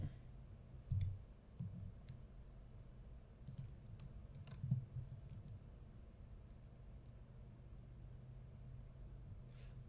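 Computer keyboard clicks and typing, a few soft taps and a brief cluster of clicks near the start and middle, faint and close over a steady low background hum; no talking.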